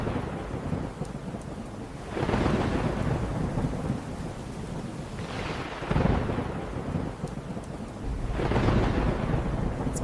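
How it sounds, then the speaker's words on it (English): Heavy storm rain pours steadily while three loud rolling thunderclaps break in at roughly even intervals, each swelling and slowly fading, with no voices present. "A big storm came to town. Rain poured down, and strong winds blew."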